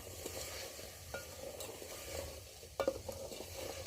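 A ginger, garlic and cumin paste is sautéed in a pan and stirred, producing a soft continuous sizzle with scraping strokes and a brief clatter near the end.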